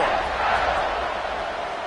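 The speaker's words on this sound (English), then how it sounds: "this crowd is buzzing after that last score" A stadium crowd in a college football video game, Ole Miss against Indiana, buzzes after a touchdown. It is a steady, dense roar that holds at an even level for the whole stretch.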